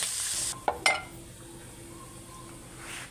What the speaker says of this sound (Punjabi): ਆਪਾਂ ਇਹਦੇ ਵਿੱਚ ਜੀਰਾ ਪਿਆਜ਼ ਤੇ ਹਰੀ ਮਿਰਚ ਪਾ ਲਈ ਹੁਣ ਇਹ ਭੁੰਨ ਲਾਂਗੇ